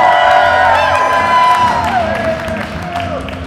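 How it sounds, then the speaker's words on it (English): A theater audience at an open-stage show cheers, claps and whoops loudly for a performer. The applause is dense and close, with bright shouts over it, and fades slightly toward the end. "Let me hear a big cheer for our good friend in free show entertainment"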